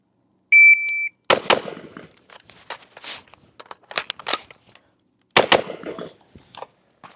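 Rifle test-firing hand-reloaded rounds outdoors: a beep, then a handful of sharp, loud cracks spaced a second or more apart, the last few well apart, with quieter handling noise between.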